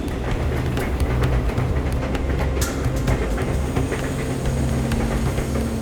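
A train rolls along a railway track with a steady, loud rumble and faint rhythmic clatter that fills the whole stretch without pause.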